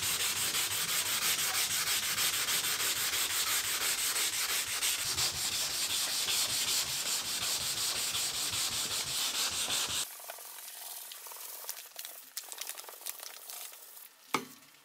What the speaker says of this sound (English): I'm starting out with 400 grit sandpaper